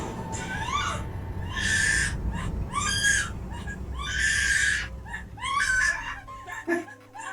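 A woman in the film The Legend of Halloween Jack gives several long, shrill screams in bursts, loud and close, over a rumbling soundtrack.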